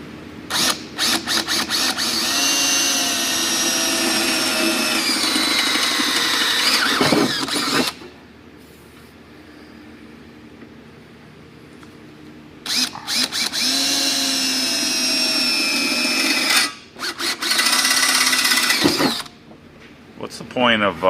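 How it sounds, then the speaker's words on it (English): A power drill bores into metal in two long, loud whining runs separated by a quieter pause, with short bursts and a squealing bit near the end, close by. "What's the point of pressing down so hard when you drill metal?"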